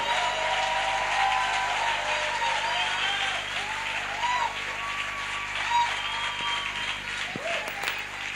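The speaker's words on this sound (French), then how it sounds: "Est-ce qu'on peut acclamer plus fort que ça" Congregation at a church service applauding and cheering, a sustained crowd roar with clapping and voices calling out, steady at moderate loudness.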